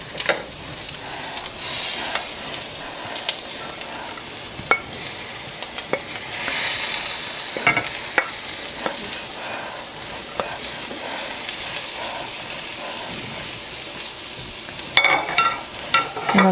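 Tofu tumbled back into a skillet of Greek-style eggplant, taken off the heat, gives a steady close sizzle with scraping and clinking from stirring, plus a few sharper knocks from the utensil against the pan; no one talks.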